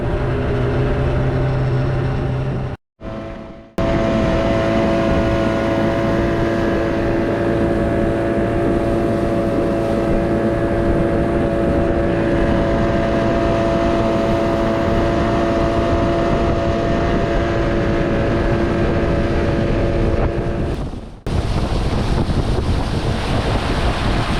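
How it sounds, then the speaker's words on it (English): A motorboat engine on the Satilla River drones steadily throughout with a constant low hum, mixed with wind buffeting the microphone and water rushing past; no one speaks. "That's why we can actually take this boat out"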